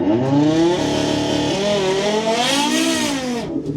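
An Audi TT RS quattro launches hard in a drag race, its engine note climbing loud and continuous through several seconds of acceleration, with a possible brief tire squeal.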